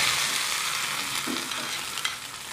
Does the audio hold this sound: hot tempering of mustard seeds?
yes